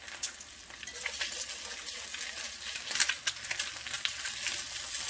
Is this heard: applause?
no